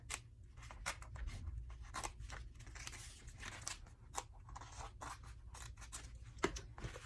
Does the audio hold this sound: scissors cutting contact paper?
yes